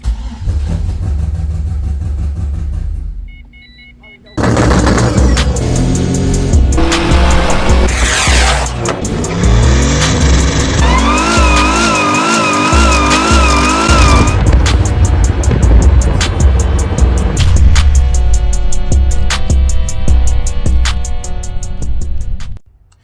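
A Pontiac Trans Am with a full aluminum exhaust cranks and fires after a short pause, then idles loudly and revs repeatedly up close, its exhaust roaring throughout until it cuts off at the end.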